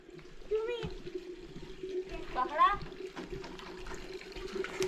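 Water runs steadily as a container fills, with voices talking over it and a constant hum underneath.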